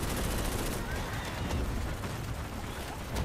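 Heavy gunfire from enemy gunners during a video game ambush, a dense continuous barrage of overlapping shots with rumbling low booms, loud and unbroken throughout.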